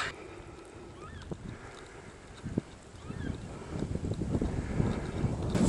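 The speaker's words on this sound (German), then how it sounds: "Schade, dass es jetzt so windig ist." Gusty wind rumbles against the microphone, growing stronger and more buffeting toward the end, with a few faint knocks.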